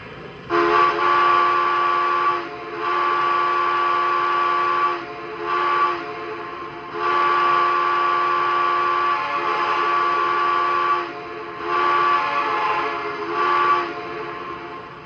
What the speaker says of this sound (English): Let's check out the whistle first.